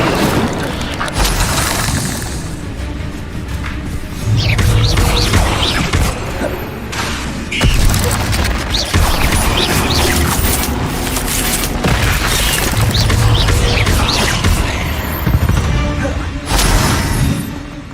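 In Hogwarts Legacy, the Incendio fire spell is cast during combat, producing loud, repeated booming blasts and crashing bursts over a dense, continuous din of game action.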